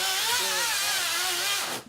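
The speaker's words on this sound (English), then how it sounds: "The sound of chainsaws cut the warm October air." Chainsaw cutting dead growth for wildfire mitigation on a warm October day, a continuous high whining engine note that wavers in pitch, loud and close, then cuts off abruptly at the end.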